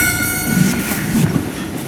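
A steam-era train rumbles and clatters in the Call of Juarez Gunslinger video game, a loud steady rolling rattle with a sustained whistle tone over the top.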